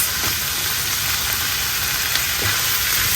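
Kidney beans and chickpeas being stirred into a warm garri salad in a hot pan, a loud steady hiss of sizzling with faint scraping from the stirring.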